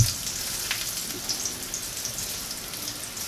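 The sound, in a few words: potatoes frying until browned in a stainless steel pan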